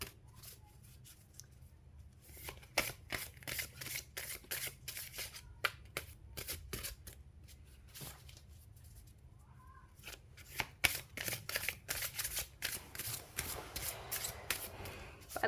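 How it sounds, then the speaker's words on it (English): Tarot cards are shuffled by hand in a steady run of soft riffling and slapping bursts, close and fairly quiet, with no talk. "if you find shuffling boring, feel free to fast forward."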